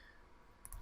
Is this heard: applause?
no